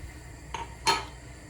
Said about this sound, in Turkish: Şimdi ben burada bezelyeleri de katacağım arkadaşlar.